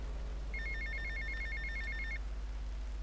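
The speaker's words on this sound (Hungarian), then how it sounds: "Ez a telefon." A phone rings in the video game GTA Vice City, a rapid trilling electronic ring lasting under two seconds, clear and steady over a low constant hum, with no talking over it.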